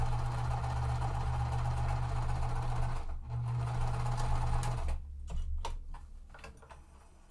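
A sewing machine stitches quilt pieces with a steady, close mechanical hum and rapid ticking, pausing briefly around three seconds, then running again before stopping near five seconds, followed by quieter handling clicks.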